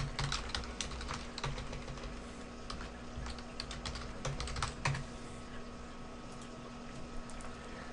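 Fast typing on a computer keyboard, with rapid clustered key clicks and short pauses, fairly close and moderate in level over a steady low background hum.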